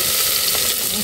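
Garlic paste sizzling loudly in a hot pan while a pumpkin curry is cooked, a steady close frying hiss that fills the short moment with no pause.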